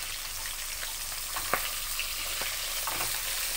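Fish sizzling as it fries in hot mustard oil in a pan for a sour green-mango fish curry, a steady crackling hiss with scattered sharper pops, close and alone without talk.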